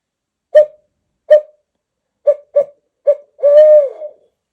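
Another owl hooter used for turkey hunting sounds a sequence of short, spaced hoots ending in a longer wavering hoot, close and clear in otherwise quiet surroundings.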